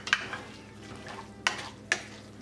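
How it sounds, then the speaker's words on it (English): Thin red pepper strips stir-frying on high heat in a pan for paneer jalfrezi, a soft steady sizzle with three sharp scrapes of a spoon stirring. "Now to this I'm going to add red pepper cut into thin stripes."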